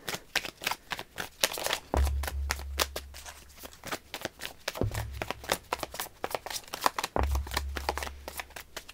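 A deck of tarot cards is shuffled by hand in a quiet room, giving steady riffling flutters with three heavier bursts of cards being bridged and pressed together.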